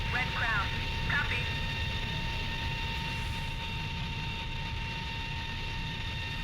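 Simulated jet engine roar just after takeoff in the flight game Strike Fighters 2, heard as a steady loud drone with a constant high whine and a couple of brief chirps near the start.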